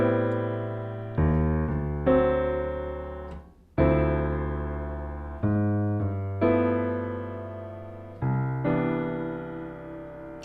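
Jazz piano or guitar playing a ii-V of V progression into a ii-V, a series of sustained chords struck one after another, each decaying before the next, with no talking.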